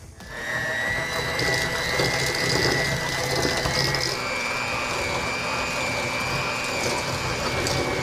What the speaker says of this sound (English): And then also 1 cup of sugar, and we're gonna beat that together.